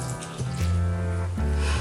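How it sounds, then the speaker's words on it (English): Cucumber jalapeno margarita poured from one strainer through a fine strainer, a continuous close trickle and splash of liquid with slight shifts in flow. "What we're going to do is take one strainer and pour it into the next strainer"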